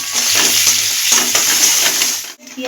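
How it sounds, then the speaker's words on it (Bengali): Chopped onions fry in hot oil with a little salt in a pan. A loud, close, continuous sizzle crackles throughout, with stirring scrapes and a brief dip near the end. "আমি পেঁয়াজ কুচিগুলো দিয়ে ভেজে নেব"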